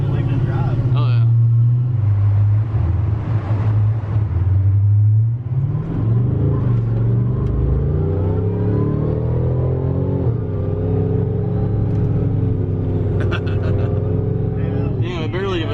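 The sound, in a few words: mega truck engine revving while driving off-road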